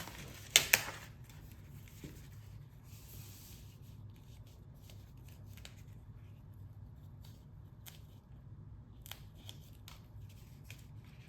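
Scissors trim paper for a scrapbook page, with two crisp snips close together near the start. After the snips comes a long quiet stretch of faint rustling and light handling noise.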